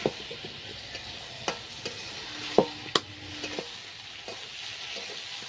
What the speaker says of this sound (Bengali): এবার আলুটা এর ভেতরে দিয়ে দেব। এবার মশলার সাথে ভালো করে কষিয়ে নিতে হবে।